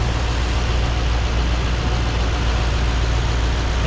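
A 2018 Mercedes-AMG E63 S with a 4-liter V8 and all-wheel drive runs at a steady idle, a smooth continuous low rumble heard up close.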